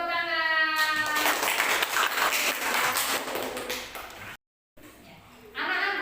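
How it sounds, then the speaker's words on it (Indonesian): A fifth-grade class gives a burst of clapping after a group presentation. The applause lasts about three seconds and is dense and fairly close, with a voice speaking just before it and again after. "beri tepuk tangan."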